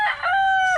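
A rooster crows once, loud and close, a strained, drawn-out call with a steady pitch, heard alone.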